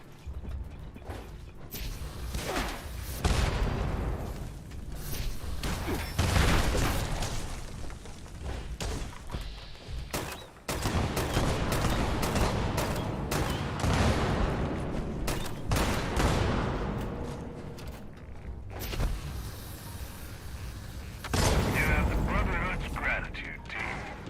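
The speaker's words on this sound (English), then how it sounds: "I'm gonna shoot with my grenade launcher until it breaks." Grenade launcher firing in Fallout 76 gameplay, with repeated heavy thumps and blasts amid loud mechanical clatter and combat noise over about twenty-four seconds, while game voices talk throughout.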